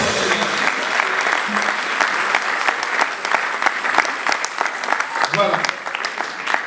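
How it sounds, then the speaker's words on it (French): Sustained applause from an audience at an Easter musical put on by the Salvation Army, dense clapping throughout, with a brief spoken word near the end. "que je vous prie d'accueillir sous vos applaudissements"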